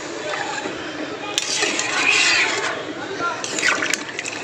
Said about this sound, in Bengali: আমি কিন্তু এর মধ্যে এবার জলটা দিয়ে দেবো